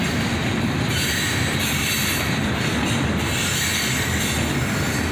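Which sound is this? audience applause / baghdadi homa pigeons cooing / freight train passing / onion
freight train passing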